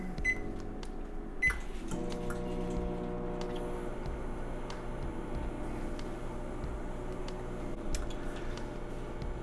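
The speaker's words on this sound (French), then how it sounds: "Le sachet de sauce dans le four micro-ondes." Microwave oven running while heating a poutine sauce sachet, a faint, steady low hum with a soft electrical drone that continues evenly, broken by a couple of light clicks near the start.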